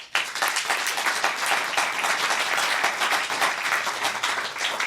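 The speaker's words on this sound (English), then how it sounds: "Clap if you think the office of the presidency is too powerful." A live radio audience claps in answer to a show-of-hands style poll about presidential power: a full, steady round of clapping from many people that lasts several seconds before tailing off.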